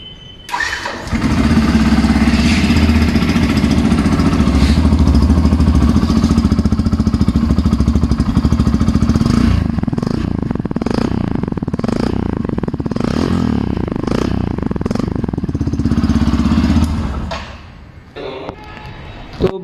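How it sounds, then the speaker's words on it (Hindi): A 2023 Yamaha FZ-S V4 DLX motorcycle starts up and idles, its exhaust throbbing loud and close, with blips of revving partway through before the engine cuts off near the end. "अभी एक बार आपको जो एग्जॉस्ट का साउंड सुना लेता हूँ।"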